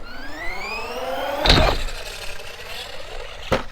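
Arrma Kraton 4x4 RC car driven at a fence on grass: a buzzing electric motor with rising and falling whine, then two sharp impact bursts about two seconds apart, close and fairly loud.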